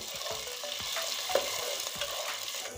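Dry red chilli paste fries in oil in a pan with a steady close sizzle, and a spoon scrapes and stirs through it in repeated strokes.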